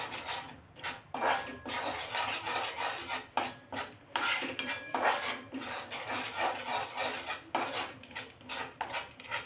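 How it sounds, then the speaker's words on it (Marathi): Gram flour roasting in melted ghee over medium heat, stirred with repeated rhythmic scraping and rasping strokes against the pan, close and fairly quiet, with short pauses between strokes. "मध्यम आचेवर हे बेसन पीठ आपण भाजून घेणार आहोत"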